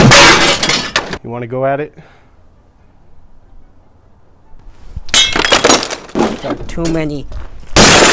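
Glass from a TV being taken apart breaks and shatters in several loud, harsh crashes at the start, middle and end, with someone talking between them.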